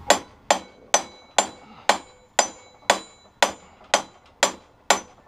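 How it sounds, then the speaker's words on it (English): A hammer strikes a handheld impact driver to loosen its parts: eleven sharp, ringing metallic blows land close by at an even pace, about two per second, and each one decays quickly. "And you can see I'm hammering the shit out of it"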